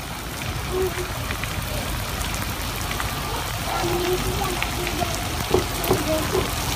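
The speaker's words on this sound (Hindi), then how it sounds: "देखो कितनी बारिश हो रही है" Heavy rain pouring in a steady dense hiss with scattered drips and splashes, loud and constant, with voices talking faintly underneath.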